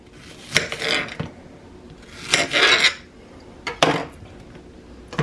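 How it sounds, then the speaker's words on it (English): A kitchen knife cuts and minces an onion on a board in a home kitchen, a few bursts of chopping and scraping strokes with short quiet gaps between them, close and fairly clear. "so I'm cutting up the onion, mincing it."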